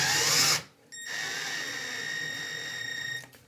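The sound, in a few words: power drill tightening shower faucet manifold screws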